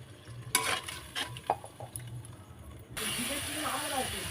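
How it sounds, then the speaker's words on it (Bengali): Spices including turmeric, cumin and chilli are stirred into hot oil in a pan, with a series of scraping stirs and clinks that give way to a steady, louder sizzle near the end. "আমি সব মশলা তেলের মধ্যে দিয়ে দেবো"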